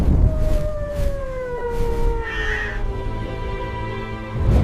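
A crow caws in a short harsh burst midway, heard alone over sustained, slowly falling tones.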